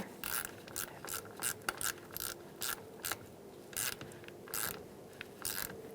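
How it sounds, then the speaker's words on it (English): A ratchet with an 8mm socket tightens the negative battery terminal on a 2000-2007 Ford Taurus, a series of quick metallic clicking bursts in uneven runs, close and fairly quiet, with no voices. "Push it down and use an 8mm socket."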